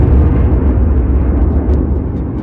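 Huge rumbling explosion sound effect depicting the birth of the Sun, a loud, dense, sustained roar of deep noise that gradually fades slightly over a couple of seconds.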